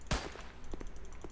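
Gunfire from shooting enemies in a video game, a short burst of quiet, rapid shots, one sharper crack followed by a few lighter pops.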